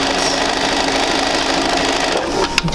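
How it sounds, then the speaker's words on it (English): A sewing machine running a quarter-inch seam on quilt pieces, a loud, continuous close whirring hum that slows and stops near the end. "just sew your 1/4 inch seam"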